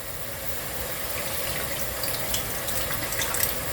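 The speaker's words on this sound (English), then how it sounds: "that's bubbling away really nicely" Curry sauce for a rogan josh bubbles in a pan over high heat, a dense steady hiss with fine crackling pops, close and continuous, no talking.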